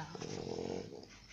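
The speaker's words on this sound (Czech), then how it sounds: "Francouzský buldoček a ona hrozně chrochtá." A French bulldog snorts and grunts at close range, a rough, wheezing, gravelly rasp that runs continuously and fairly loud with no talking over it.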